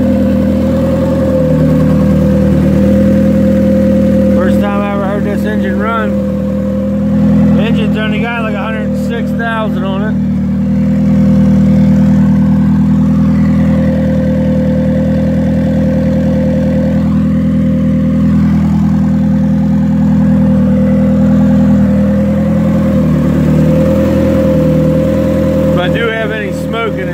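A turbocharged Hyundai Tiburon engine idles steadily for the whole stretch, a constant loud mechanical drone with a few short bursts of people talking over it.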